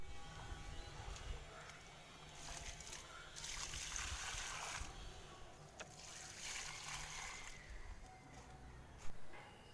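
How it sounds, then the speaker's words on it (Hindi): Water is poured onto potted plants at home, faint splashing and trickling in a few soft bursts over low background hiss. "अब मैं इनमें पानी डाल लेती हूँ।"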